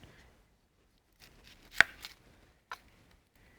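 Knife chopping an onion into quarters on a board, with a few soft cuts and one sharp crisp chop, followed by a lighter cut, mostly quiet between strokes and without speech.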